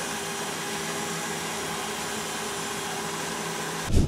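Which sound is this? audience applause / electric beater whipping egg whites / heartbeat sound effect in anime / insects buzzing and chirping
electric beater whipping egg whites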